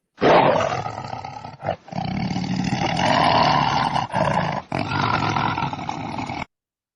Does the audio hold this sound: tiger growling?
yes